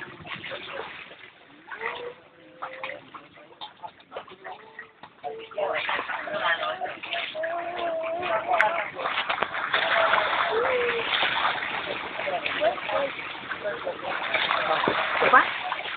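Sea water splashes and sloshes near a boat, with a continuous rushing wash growing louder midway, while people talk over it throughout.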